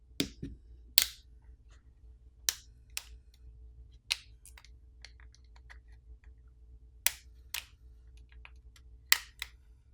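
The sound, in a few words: plastic pry tool popping off phone back housing catches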